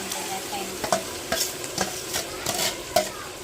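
Masala and tomato paste are stirred in a hot pan, with a spatula scraping in quick repeated strokes over a steady background sizzle, close and fairly loud, with no speech.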